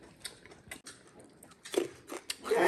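Crunchy bites into pickled scallion bulbs give a few sharp, close crackling bursts, with quieter chewing between them during a Miao home meal of salted boiled chicken.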